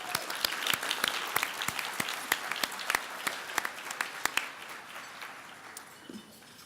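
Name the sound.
audience applause for award winners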